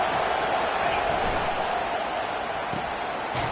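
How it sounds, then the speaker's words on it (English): A stadium crowd roaring during a Florida State vs. Tennessee football broadcast, a dense, sustained wall of cheering noise with no letup, with an announcer talking over it. "Listen to this crowd just shaking the girders of this place trying to help their defense"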